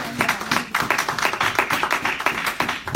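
A church congregation claps, with many hands beating together in fast, irregular bursts that carry on steadily throughout, loud and close, with no talk.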